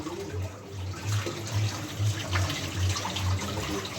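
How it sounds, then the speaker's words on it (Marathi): Tap water runs steadily while potatoes are rinsed beneath it, a continuous close splashing with rhythmic pulses from the hands moving the potatoes under the stream. "बटाटा मी वॉश करून घेते आणि कट करते"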